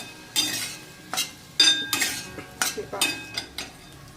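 Okra with coriander is stirred in a pan: a spoon scrapes and clinks against the metal in repeated short strokes, with a faint sizzle under them.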